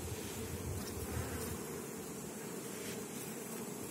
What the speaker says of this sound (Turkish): İşte bu şekil bir arı.